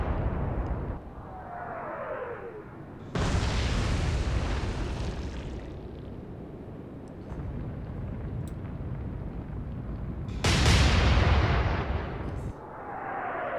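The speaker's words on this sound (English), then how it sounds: "that was a pretty solid shot by Prinz Eugen there" Heavy naval gunfire from the cruiser Prinz Eugen in the game Atlantic Fleet, set at the Battle of the Denmark Strait: loud booming salvos break in sharply at intervals, each followed by a long rolling decay and whistling shells.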